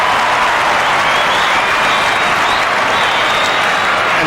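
Loud, steady applause and cheering from a football crowd at an AFL match between Adelaide Crows and Carlton Blues in 2003, greeting a Carlton goal, a dense roar of clapping sustained without a break.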